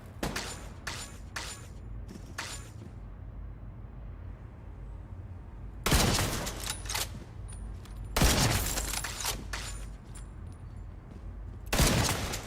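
Gunfire in a shooter video game: a quick cluster of sharp shots early on, then a gap, followed by three louder, widely spaced blasts, each leaving a brief ringing tail over quiet background ambience.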